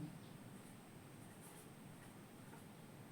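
Chalk or marker writing out a grammar example on a board, a steady faint scratching that runs continuously and quietly throughout, with no talking.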